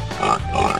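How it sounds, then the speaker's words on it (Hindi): A pig oinks in a short burst of grunting snorts, close and fairly loud, in a home where animals are being cleaned. "सुअर।"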